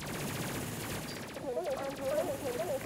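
Video game guns fire in a dense, continuous rapid rattle, steady and loud throughout, with a faint wavering tone rising in the background partway through.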